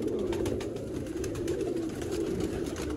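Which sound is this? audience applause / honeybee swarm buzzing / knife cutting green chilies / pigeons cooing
pigeons cooing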